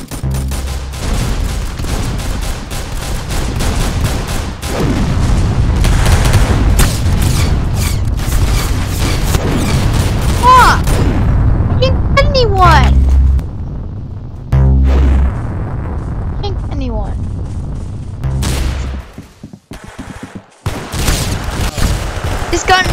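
Repeated gunfire from a weapon in the shooter game Arsenal: dense, loud bursts of shots and booms through most of the stretch, thinning out toward the end, with a player talking over the action.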